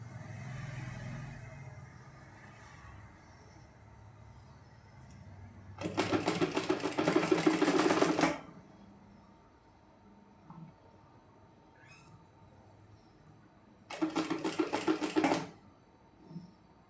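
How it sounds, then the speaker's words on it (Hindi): Sewing machine stitching round cords onto a neck design, in two loud rapid bursts of about two seconds each, separated by quiet with faint room noise. "बिल्कुल सिलाई के ऊपर ऊपर आपने सिलाई चलानी है"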